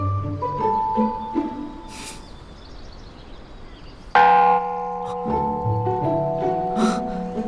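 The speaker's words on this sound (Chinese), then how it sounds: "是日落前的诵经钟声响了，" A temple bell rings for sunset chanting at a Buddhist monastery, its clear struck tone swelling loudly partway through and lingering in long resonant decay over a soft ambient background, with no talk.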